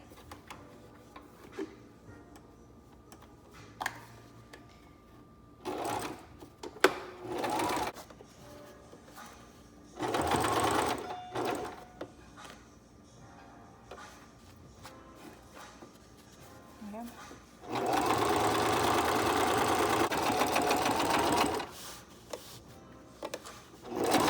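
A home sewing machine stitches a homemade fabric mask in several short, rapid bursts and one longer run of fast, even mechanical chatter, with quiet handling noises between.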